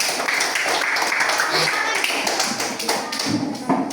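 A classroom audience in an open teaching session claps hands together, a dense patter of many claps with voices mixed in throughout.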